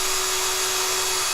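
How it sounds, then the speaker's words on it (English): A power drill drives a tap into a hole in a 3D-printed revolver prop part, giving a steady, continuous motor whine with a constant pitch, close and fairly loud, with no talking. "officially you're not supposed to use a tap with a drill"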